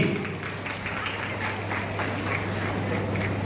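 Steady crowd applause at a political rally in Kalyan, dense and continuous, with a low constant hum underneath and no clear voices.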